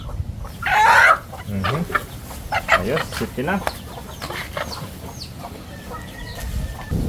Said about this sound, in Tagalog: Ito na ang ating manok.